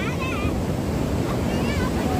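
Sea waves surge onto Gokarna beach in a steady, close, broadband wash, with wind buffeting the microphone throughout.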